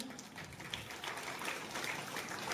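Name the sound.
audience applause at school ceremony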